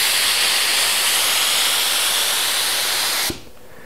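An AeroJet RS1 HVLP turbine spray gun, non-bleed type, set to a horizontal spray fan, blasts a loud, steady airy hiss for about three seconds before cutting off abruptly with a soft click, leaving a quieter background.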